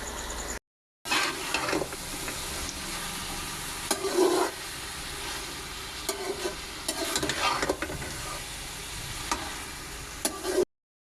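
Food being stir-fried and roasted in a pan, with a steady sizzle and repeated scraping and stirring strokes throughout, fairly close and alone after a brief silent gap at the start.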